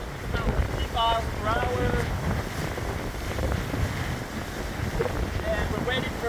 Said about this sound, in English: So right now we're getting a big wind.